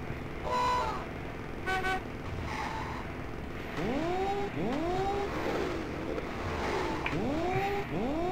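Racing kart engines whine in the Wacky Wheels DOS video game. Repeated rising and falling electronic engine sweeps pass by, mixed with short horn-like toots and skids in a steady, busy arcade soundscape.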